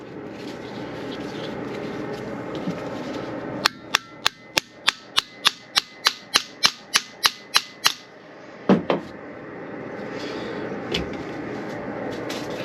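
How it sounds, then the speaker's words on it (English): Sharp metallic hammer taps knock a part loose during a rebuild of a 105-amp alternator, a steady run of about a dozen evenly spaced, close, loud strikes, then a brief double knock after a pause, over low workshop hum. "we'll see if we can't tap that side out nice and gently without destroying anything"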